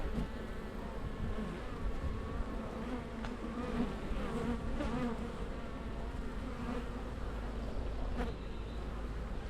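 Honey bees swarm around an open hive frame of freshly drawn comb, their dense, continuous buzzing close and steady throughout, with no speech.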